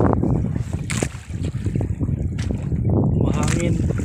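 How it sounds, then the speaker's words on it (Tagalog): Wind gusts over the sea beside small fishing boats, a steady low rumble buffeting the microphone with brief splashy bursts, while people talk throughout. "Mahangin. Mahangin mga idol."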